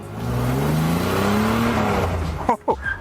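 The engine of a $300 fake Lamborghini idles with a steady droning hum that slowly rises and falls, then cuts to a couple of short rough bursts near the end.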